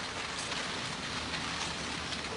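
Steady rain patters on a surface, a dense even hiss of drops with no voices, constant throughout.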